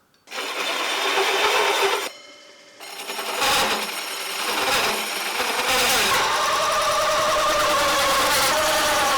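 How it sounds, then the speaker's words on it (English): A drill press fitted with a hole saw cuts into wood, giving a loud, steady whine with a brief dip partway through, then a continuous grinding tone. "So the way I'm going to approach this next part is I'm going to use 2 hole saws"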